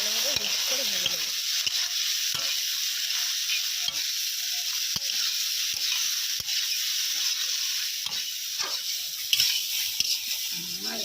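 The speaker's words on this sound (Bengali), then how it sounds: "ভালোভাবে মিক্স করে ভেজে নেবো" Vegetables tossed with salt and turmeric fry in a pan in a village kitchen, a continuous hissing sizzle with scattered light clicks of stirring throughout.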